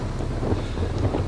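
Wind buffets a microphone outdoors on a round-the-world bicycle trip, a loud, continuous low rumble and roar with no clear voice.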